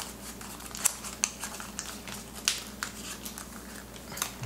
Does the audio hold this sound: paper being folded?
yes